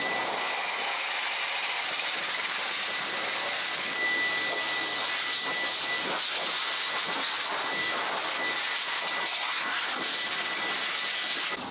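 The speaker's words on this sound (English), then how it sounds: "I'm using a 4 horsepower single engine Metrovac for this task" A 4 horsepower single-engine Metrovac blower roars steadily and loudly while drying a Mercedes AMG GT, a continuous high-pitched rushing airflow with no talking.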